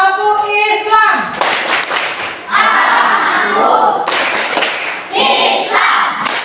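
A classroom of students performs the 'tepuk Islam' clapping chant, sharp rhythmic hand claps in quick patterned bursts mixed with chanting voices, loud and close.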